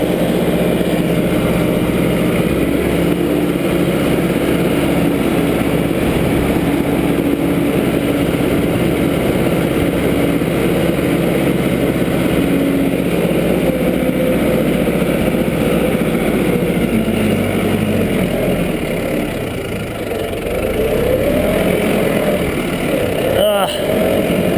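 A Farmall tractor engine runs steadily while driving over a field with ditches, a constant low rumble throughout, with someone talking over it at times.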